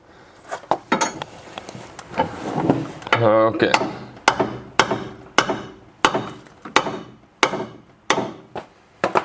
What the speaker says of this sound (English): Quite tight, so hammer will need to be there as well.